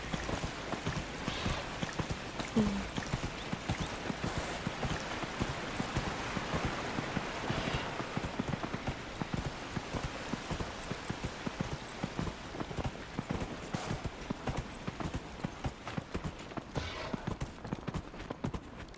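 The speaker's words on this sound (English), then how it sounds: "My undead horse here." Steady, rapid hoofbeats clip-clop continuously as an undead horse trots along in the video game Dragon Age: Inquisition, with a faint ambient background and no talking.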